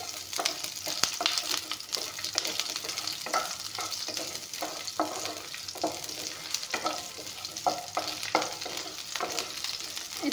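Garlic and onion fry with panch phoron spices in a pan, a steady sizzle broken by repeated scraping strokes of stirring, close by and without talk.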